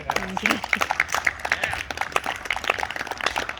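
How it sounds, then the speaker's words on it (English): Congregation at an Easter Sunday church service applauding themselves, steady scattered hand claps from a modest crowd in a hall, with voices mixed in. "Can you give yourselves a round of applause for surviving 13 months of digital online worship?"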